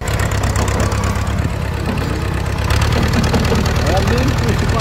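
A tractor engine idles steadily on a farm, a constant low rumble that lasts throughout and grows slightly louder midway, with voices talking over it.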